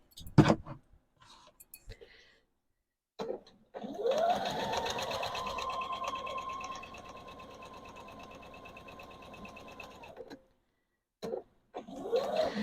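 A sewing machine back-stitches a seam on a Christmas pillow case: a few clicks, then a sustained whirring run that speeds up, steadies, drops and stops, followed by brief restarts.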